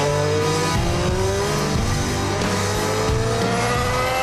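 A Red Bull Racing Formula 1 car with a turbocharged V6 engine and energy recovery system roars loud and continuous, the engine pitch climbing and dropping through gear changes, up close with no talking.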